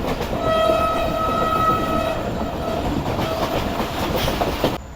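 The Sukkur Express, the Queen of Sindh, runs from Karachi toward Sukkur with a loud, steady rumble of wheels on rails. Its horn blares in a sustained tone near the start, and a sharp clatter comes near the end.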